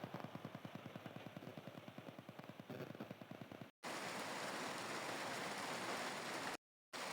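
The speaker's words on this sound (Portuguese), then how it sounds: "vocês vão ficar ouvindo esse barulhinho de chuva no fundo" Rain falls steadily in the background, a dense hiss of patter with an irregular rapid ticking of drops on a nearby surface, with two brief breaks.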